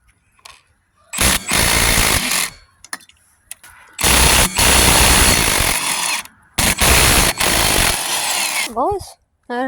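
A power drill works on a 2008 Kawasaki Bayou 250 ATV that won't start, firing in three loud, harsh bursts of rapid rattling separated by short pauses, with people talking nearby.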